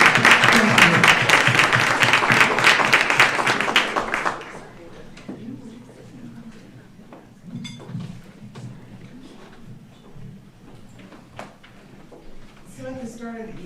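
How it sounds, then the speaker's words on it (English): Loud audience applause at a Black History Month dinner program, welcoming presenters to the podium, dense clapping for about four seconds before fading into quiet room noise and a voice speaking near the end. "Please give them a round of applause and welcome them"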